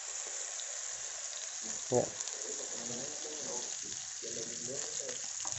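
Squid and shrimp sambal sizzling over medium heat in a pan, a soft, steady frying hiss with a brief louder splash as the sambal goes in; a voice speaks briefly.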